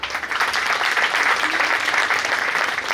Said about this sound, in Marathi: आपण टाळ्या वाजवून या सर्व तिन्ही जोडप्यांचं एकदा स्वागत करूया.